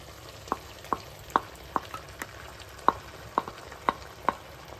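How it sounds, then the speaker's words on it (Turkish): Garlic, peppers and tomatoes fry quietly in a pan while a utensil scrapes and taps against it in a steady run of about ten sharp strokes, with no voices. "Biraz karıştırıyorum şimdi bunları."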